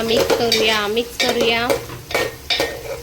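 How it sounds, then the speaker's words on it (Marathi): Chopped tomatoes stirred into a wild leafy vegetable frying in a pan, heard as loud scraping and wet swishing strokes in a steady rhythm with a faint sizzle beneath, close up. "आता ह्याच्यात टाकूया टोमॅटो, कापून घेतलेले टोमॅटो, आणि पुन्हा ह्याला छान मिक्स करूया"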